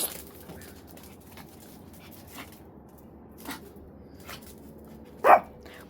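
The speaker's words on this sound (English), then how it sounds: "Go inside if you're going to bark." A dog barks outdoors in a yard: a few scattered faint yips, then one louder, sharp bark near the end over quiet background.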